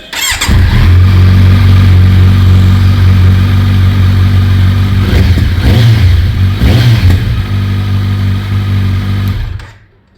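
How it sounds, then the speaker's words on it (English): A Kawasaki Z900 with a replica SC Project exhaust on a custom bent pipe rumbles loudly up close, holding a deep steady idle with a couple of sharp throttle blips before cutting off abruptly. "I've got this replica SC project also installed on this bike"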